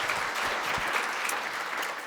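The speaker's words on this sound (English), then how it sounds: "Round of applause for our wonderful panellists." A conference audience applauds its panellists with steady, dense clapping from a roomful of people, sustained evenly for the whole stretch at a moderate level.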